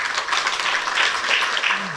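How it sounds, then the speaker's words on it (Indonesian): Audience applause at a ceremony handing out decrees to newly appointed health workers in Nganjuk, a busy spread of clapping at moderate loudness, with a faint voice and a brief low sound near the end. "Sekali lagi tepuk tangan dulu yang terima SK."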